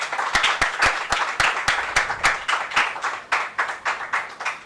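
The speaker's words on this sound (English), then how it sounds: "a big round of applause is in place for her." Conference audience claps after a speech at an event on climate and the tidal delta, a modest, uneven round of individual hand claps with distinct sharp beats, fairly close and continuing throughout.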